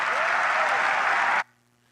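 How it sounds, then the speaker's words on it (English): Audience applause at a talk fills the air with dense, steady clapping for more than a second, then cuts off abruptly into near silence. "Let's give them a round of applause."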